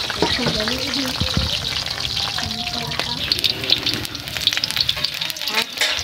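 Eggplant fries in very hot oil in a pan, giving a dense, continuous close sizzle with crackling spits throughout, while a voice talks faintly underneath.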